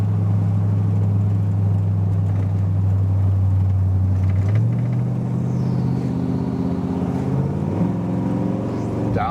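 A 1957 Chevrolet Handyman wagon drives with a steady low engine drone that shifts pitch midway as it downshifts, then rises again, loud and close throughout with faint talk beneath.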